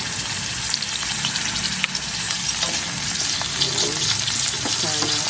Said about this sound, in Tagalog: tapos gigisa lang tayo ng bawang sibuyas